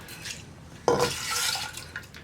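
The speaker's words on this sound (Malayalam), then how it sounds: "അതിലേക്ക് നമ്മൾ സോക്ക് ചെയ്ത് വെച്ചിരിക്കുന്ന പയർ ചേർത്ത് കൊടുക്കുക." Soaked mung beans tip into water in a pressure cooker with a wet splash and rattle against the metal, then settle with a few soft clinks.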